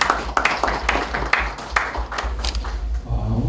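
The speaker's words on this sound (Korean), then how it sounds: "큰 박수로 맞이해 주시기 바랍니다." Audience applause at a Christian forum in a press center hall, greeting the forum's leader as he comes up to speak; scattered, uneven claps of moderate loudness continue for a few seconds with a low hum beneath.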